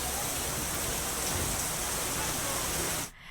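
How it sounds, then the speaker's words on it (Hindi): Heavy rain pours down in a steady, dense broadband hiss, close and loud, then cuts off abruptly near the end. "मस्त बारिश है यार, ऐसी बारिश हो जाएगी यहाँ तक पानी।"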